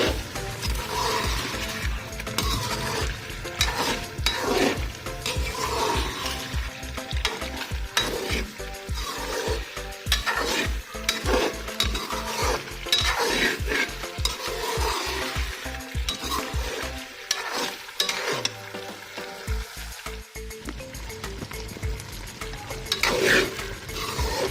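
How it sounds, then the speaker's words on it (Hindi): Tomatoes frying with masala in a pan for white chicken pulao, a steady sizzle overlaid with quick repeated scraping strokes of a spoon stirring, close and continuous with a brief pause near the end. "ये टमाटरों के अंदर ही हमें इन्हें 5 से 6 मिनट तक अच्छे से मसाला जात को फ्राई करना है"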